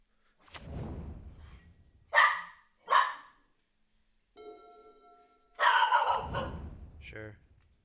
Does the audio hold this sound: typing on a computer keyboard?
no